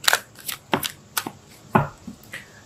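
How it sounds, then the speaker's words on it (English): Tarot cards are shuffled by hand, a quick series of crisp riffling snaps and slaps in irregular bursts, close and distinct with no talk over them. "Let's pull a card for your emotional space."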